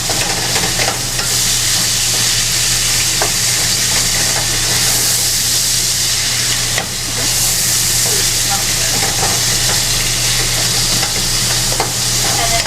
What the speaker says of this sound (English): now kind of just mix it around until your ground beef gets brown